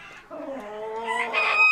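Chickens cluck and call close by on a cold, snowy day, a single rising drawn-out crowing-like vocalisation with no talking over it.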